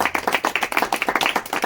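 An audience at a church youth retreat in Kodaikanal claps to welcome a team, with quick, close, fairly loud claps in a steady patter and no talk.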